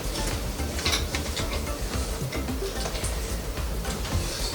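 Chocolate pie filling gets stirred in a bowl, a continuous close scraping and sloshing with faint rhythmic ticks throughout and no talking.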